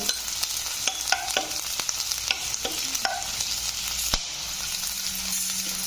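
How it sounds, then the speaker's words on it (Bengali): Chillies fry in oil in a kadai with a steady sizzle, scattered crackles, stirring scrapes and one sharp loud pop near the end as a chilli bursts. "লঙ্কাটা কীভাবে ফাটলো"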